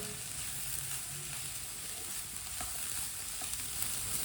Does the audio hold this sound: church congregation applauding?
no